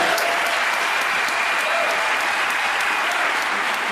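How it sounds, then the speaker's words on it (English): A town hall audience gives a round of applause for Steve Edmiston. The clapping is dense and sustained, loud and even throughout. "give a round of applause to Steve Edmiston"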